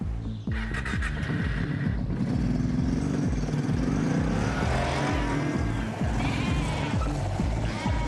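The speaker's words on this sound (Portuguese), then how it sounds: "Ovelhas." Sheep bleating on a farm in rural England, several animals calling loudly and repeatedly in a dense, overlapping chorus close by, with no talk.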